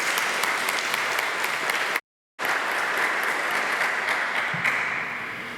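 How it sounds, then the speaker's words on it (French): A church congregation at mass applauds its volunteers, a steady wash of many hands clapping that drops out briefly partway through and then resumes evenly before slowly fading. "Alors, on peut applaudir ces personnes-là."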